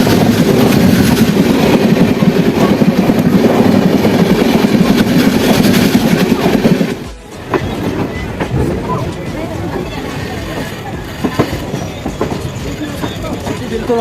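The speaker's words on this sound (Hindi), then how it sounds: "हमारी ट्रेन फाइनल डेस्टिनेशन पर अराइव कर रही है" The Delhi Haridwar Express pulls into Haridwar railway station, a loud roar of rolling carriages and rattling wheels that abruptly drops to a quieter clatter and creaks as the train slows, with a voice talking over it.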